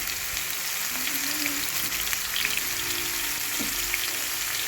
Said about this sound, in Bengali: আমি দু দুবার ধরে কলাগুলোকে ভেজে নেব যেহেতু অনেকটা কলা রয়েছে